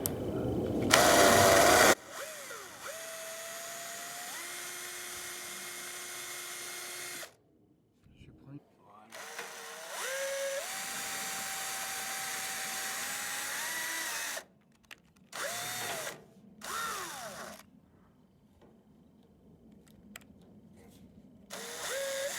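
A power drill with a 2 mm bit bores screw holes while a rain barrel is installed, whining in several sustained bursts that rise and dip in pitch, with short pauses between holes.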